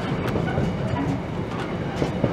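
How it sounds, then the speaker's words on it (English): A Great Western Railway passenger train bound for Hull runs past at Peterborough on the East Coast Main Line, a steady close rumble with wheel clatter filling the whole stretch and no voices. "There's a Great Western Railway service to Hull."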